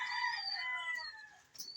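Rooster crowing once close by, a loud drawn-out call that trails off, followed by a faint short cluck.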